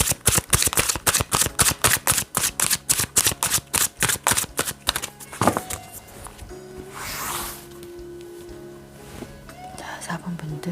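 Tarot cards are shuffled in a quick, steady riffle of crisp snaps for several seconds, then give way to softer handling noises and quiet rustling while a voice speaks nearby.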